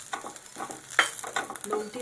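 Onion and dry coconut sauté in a pan over medium heat, giving a soft steady sizzle with small crackles and scraping stirs close by.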